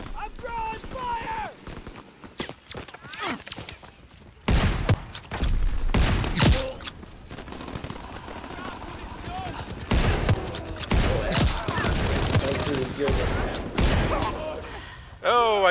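Call of Duty WWII team deathmatch in Aachen, with bursts of rapid gunfire and sharp single shots coming and going under a man's excited speech.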